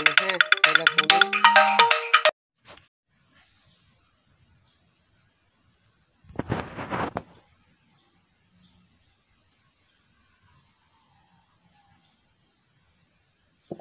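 A mobile phone ringtone plays loudly as a bright melodic tune for about two seconds, then a brief second burst follows several seconds later, with quiet room sounds between.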